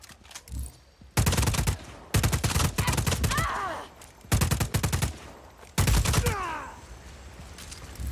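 Automatic gunfire in Just Cause 4, several loud close bursts of rapid shots with short pauses between, with rising whistling sounds trailing some of the volleys.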